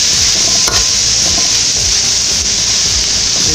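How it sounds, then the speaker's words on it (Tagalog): Carrots for shrimp pilaf sauté in a pan, a loud, constant sizzle with a spoon stirring and scraping through it close up. "Ito na po yung carrots natin. Medyo nagisa na."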